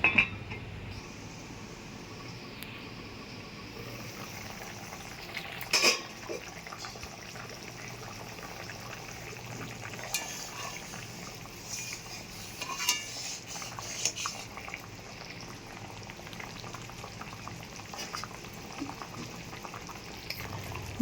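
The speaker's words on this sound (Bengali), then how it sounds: "ঝোল ভালো করে ফুটে উঠেছে, এবার লবণ হলুদ মাখিয়ে রাখা মাছটা দিয়ে দেবো।" Mustard hilsa curry broth simmers in a covered pan, giving a steady low bubbling under faint kitchen clatter, with a brief sharp clink of pot or utensil near the middle and no voices.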